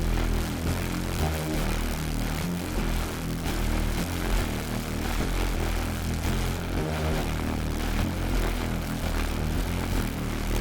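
A neurofunk bass synth patch built in Vital with blended FM plays as a thick, continuous, growling drone with warm low-mid harmonics, loud and alone.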